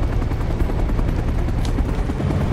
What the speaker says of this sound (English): There's another chopper.